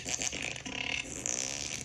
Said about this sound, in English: Stewardess, I speak fart.